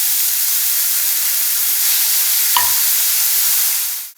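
Chopped carrots sauté in a pan for a hara bhara kabab, giving a steady, even sizzle and hiss throughout with one brief clink of a spoon partway, with no voices.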